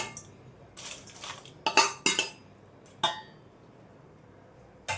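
Fried peanuts and curry leaves are tipped from a pan into a basin, heard as a few clattering metal clinks and scrapes in short bursts separated by quiet, with no voices.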